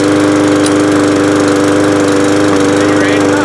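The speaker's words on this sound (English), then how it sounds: "So now I'm going to start to mow." A lawn mower engine runs at a steady, loud idle close by, with a constant droning hum and a faint mechanical rattle throughout.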